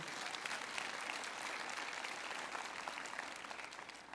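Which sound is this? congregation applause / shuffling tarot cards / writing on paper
congregation applause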